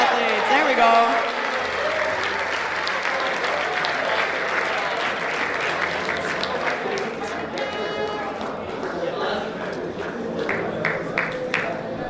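A big crowd at a boys' basketball awards ceremony cheers and applauds loudly and steadily, with voices and whoops mixed into the dense clapping throughout.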